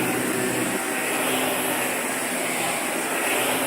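A Eureka ReadyForce robot vacuum runs over carpet with a steady, loud, broadband whirring hum that holds evenly throughout, close by and with no voices.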